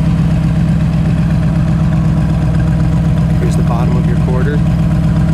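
1972 Chevrolet Nova engine idling through an exhaust exiting behind the rear wheel, a steady low rumble throughout with someone speaking briefly over it near the end.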